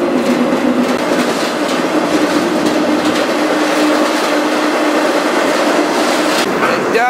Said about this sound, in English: The train is going fast. This is a fast line.